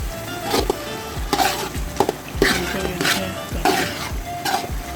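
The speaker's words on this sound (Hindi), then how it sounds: "यहाँ पे अच्छी तरह मिक्स कर लेंगे इसको, अच्छी तरह" Tomato paste being mixed into a pot of Afghani Bukhari rice dish, regular stirring strokes of a metal spoon against the pot over a soft sizzle, close up.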